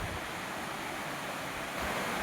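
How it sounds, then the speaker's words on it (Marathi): A small river stream in the Sahyadri hills flows with a continuous, dense rushing wash of water, steady and fairly close, with no voices. "इथे एक छोटीशी नदी आहे. इथं खूप सारं पाणी वाहू राहिलंय."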